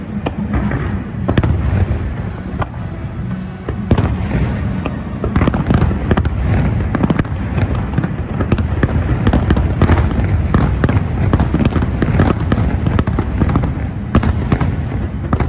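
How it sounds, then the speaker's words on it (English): Fireworks burst over Magic Kingdom in a loud, dense barrage of cracks, pops and deeper booms, fired in rapid succession without pause and heard fairly close. "And then I'll be skipping out to watch the fireworks."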